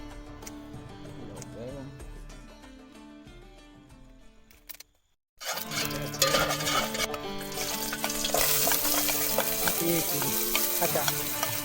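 Maggi noodles sauté in a pan aboard a fishing boat, a steady sizzle with stirring scrapes that cuts out briefly, then returns louder and denser, with faint voices in the background.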